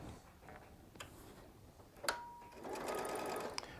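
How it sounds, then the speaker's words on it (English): Baby Lock Solaris sewing machine taking a few stitches at the top of a pieced quilt block seam, a short burst of quiet mechanical whirring and ticking after a couple of faint clicks, fairly soft and close. "I'm going to start at the top of the seam and take a few stitches"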